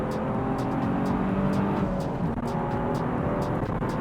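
A supercharged Nissan 350Z GTS accelerates hard toward the red line. Its loud engine climbs in a sustained, rising roar with a brief dip as it shifts, heard from inside the car and alone without talk.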